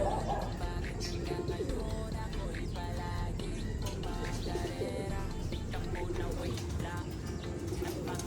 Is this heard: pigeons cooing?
yes